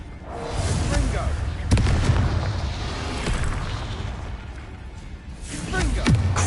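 A Confringo fire spell from Hogwarts Legacy bursts with sharp booming impacts, roughly two of them, loud against a busy game background while a voice talks over the action.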